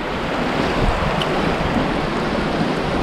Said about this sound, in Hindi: तो ये देखिए एक झरना, इसको क्रॉस करना है